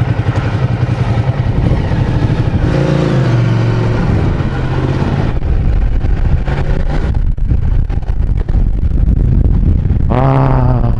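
A Kymco AK550 motorcycle engine drones loudly and continuously close by, its pitch rising and falling as it revs and shifts while riding.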